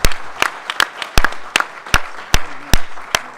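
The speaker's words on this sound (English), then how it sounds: "can we give them another round of applause?" A few people in a conference audience clapping for young male students, sparse loud claps spaced irregularly and close to the mic, with faint crowd murmur underneath.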